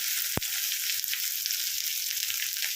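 Steady hot-oil sizzle from a pan on the stove before onions go in, a continuous bright hiss with one sharp knock near the start and no talking.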